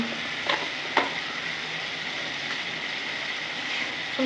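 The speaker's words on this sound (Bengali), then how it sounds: "ভালো করে কষে নেবো" Masala with salt and turmeric frying for a topse fish curry: an even, continuous sizzle in the pan, broken by two or three spatula scrapes near the start, no voices.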